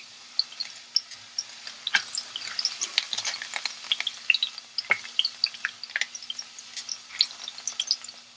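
Garlic and thyme frying in a pan before potatoes are added, crackling and popping in quick irregular bursts, close and clear with no talking.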